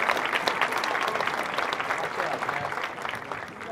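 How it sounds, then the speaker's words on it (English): A crowd at a 2024 McAlester commencement ceremony applauds graduating students with steady, dense clapping that holds evenly for a few seconds before a sharp sound at the very end. "Let's give a round of applause for these amazing students."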